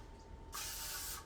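A can of aerosol cooking spray being used while preparing a breakfast egg bake, giving one loud, close, steady hiss that starts abruptly after a brief quiet moment and lasts under a second.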